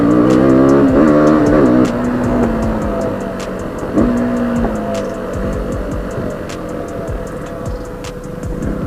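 A KTM Duke 200 motorcycle engine runs loud and close. Its pitch wavers and sags from a rev down toward idle, and a faint steady ticking sits beneath the throbbing drone.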